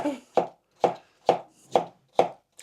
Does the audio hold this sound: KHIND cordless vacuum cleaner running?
no